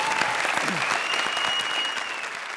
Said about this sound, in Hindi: सुपरस्टार प्रिया के लिए जोरदार तालियां